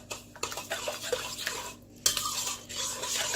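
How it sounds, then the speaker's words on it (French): Brioche dough with baker's yeast is stirred in a bowl, giving a close, continuous wet swishing with scraping strokes and a brief pause partway through. "Je vais bien remuer."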